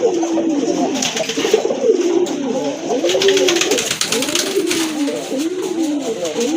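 Several pigeons at a pigeon market cooing close by, repeated low rolling coos overlapping one another in a steady rhythm, with faint background bustle.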